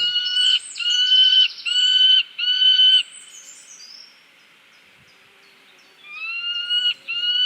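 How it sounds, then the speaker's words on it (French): A peregrine falcon in Paris gives loud, sharp, piercing repeated calls in quick bursts, then pauses in near silence before calling again, close and clear with no talk. "Son cri le plus fréquent est assez perçant et sec."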